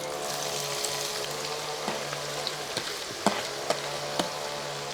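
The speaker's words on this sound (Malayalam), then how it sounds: "ആ എണ്ണയ്ക്കകത്തോട്ട് തന്നെ ഈ സവാള കൊണ്ട് ഇട്ട് കൊടുക്കുക" Thinly sliced onions frying in hot oil, giving a steady close sizzle with scattered light clicks and taps from stirring.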